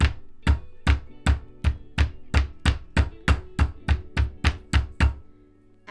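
A meat mallet pounds a pork chop for fried cutlets, fourteen heavy thuds at a steady, even rhythm, close and loud, with no voices.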